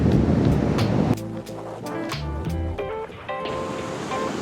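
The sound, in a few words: ocean waves on Iceland black sand beach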